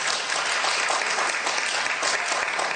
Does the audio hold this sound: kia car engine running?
no